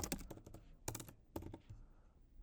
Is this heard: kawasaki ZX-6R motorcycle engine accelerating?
no